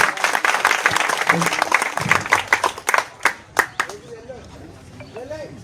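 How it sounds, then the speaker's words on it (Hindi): A crowd applauds loudly at a cow shelter's Govardhan Puja event, dense clapping that thins into scattered individual claps and fades near the end, with faint voices underneath. "गौ सेवकों का जोरदार ताली बजाकर हम अभिनंदन"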